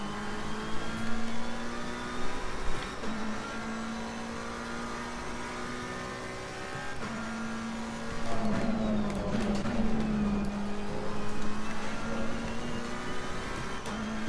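The engine of a McLaren 720S race car in Assetto Corsa Competizione at Donington Park drones steadily at high revs, dips as it shifts, then climbs again, heard alone and up close.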